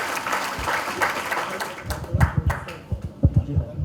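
A crowd applauds, the dense clapping fading after a couple of seconds into scattered individual claps and thumps.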